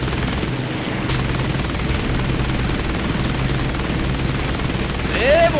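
Machine gun fire from a fighter aircraft in the War Thunder air battle game rattles in a dense, continuous burst under engine roar, loud and sustained, with a brief whine at the end.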